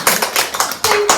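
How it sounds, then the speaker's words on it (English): A school assembly audience claps together, a burst of many hands in quick uneven rhythm that holds at steady loudness, with a brief tone sounding near the end. "Well, I think you all deserve to give each other a big clap."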